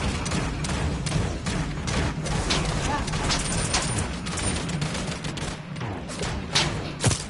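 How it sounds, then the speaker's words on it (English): Rapid gunfire in the Realm Royale battle royale game, a dense run of bursts and thumps throughout, loud and continuous, while a player talks excitedly over it. "Oh, he's shooting."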